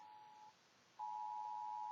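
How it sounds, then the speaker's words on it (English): A phone's Amber Alert emergency tone sounds alone: a steady electronic beep, a short gap, then a loud continuous tone resuming and holding. "my phone's going off. There's an Amber Alert."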